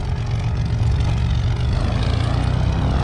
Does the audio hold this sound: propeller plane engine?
yes